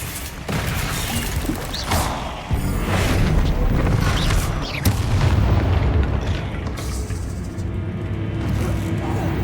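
Booming spell explosions from the Confringo fire curse in Hogwarts Legacy, several heavy blasts and rumbling impacts layered over continuous combat noise, loud and close.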